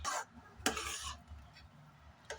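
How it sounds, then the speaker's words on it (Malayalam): Kulfi custard being stirred in a pan: a few short scraping strokes of a spoon against the pan bottom, close and moderately quiet, separated by brief pauses. "അതുവരെ നമുക്കൊന്ന് ഇളക്കി കൊടുക്കാം."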